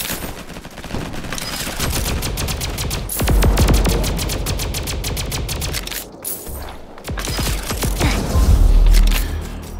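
Rapid volleys of sci-fi ray gun fire in a Roblox Flag Wars match: dense, loud bursts of repeated zapping shots that run almost without pause, with brief gaps and surges of heavier blasts.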